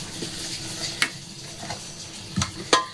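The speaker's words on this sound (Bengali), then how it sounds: "এগুলোকে একটু হাতে প্রথমে মিশিয়ে নেব।" Cake ingredients with a pinch of salt being mixed by hand in a bowl, giving soft scraping and stirring sounds with a few sharper clinks and knocks, close and alone.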